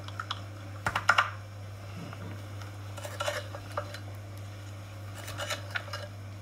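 Spoon or whisk stirring thick cake batter with tutti frutti in a bowl, soft intermittent scraping and clinking taps against the bowl, close and fairly quiet over a steady low hum.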